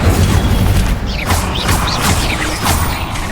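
Incendio fire spell cast in Hogwarts Legacy, loud booming bursts of flame with whooshing swells and bright chirping sweeps layered over dense battle noise.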